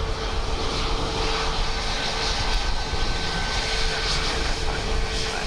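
An airliner's engines roar steadily at Dublin Airport on a windy day, a loud, continuous broadband rumble with a faint tonal whine, heard close without pause.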